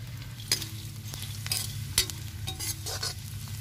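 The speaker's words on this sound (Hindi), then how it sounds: "अब उर्दियों के साथ में भूनेंगे इन्हें। अब उर्दी डाल देते हैं।" Urad dal frying with onions in a village kitchen pan over medium heat, a steady low sizzle with scraping stirring strokes at intervals, close and unaccompanied by talk.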